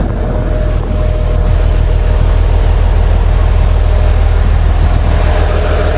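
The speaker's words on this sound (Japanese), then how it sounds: "このディーゼルエンジン音、ハイブリッドですけどすごい鳴り響いてていい感じ。" The diesel engine of a hybrid resort train roars steadily from inside the carriage, a loud continuous low drone with rumbling vibration and no talk over it.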